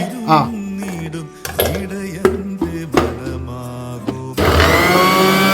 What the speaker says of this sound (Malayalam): ഉള്ളി, ഇഞ്ചി അരച്ചെടുക്കാം.